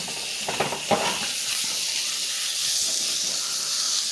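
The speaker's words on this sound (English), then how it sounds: "This pan is super duper hot and I'm ready to sear my steak." Steak sears in a very hot pan with a loud, continuous hissing sizzle close up, a few sputtering pops near the start, and no one talking.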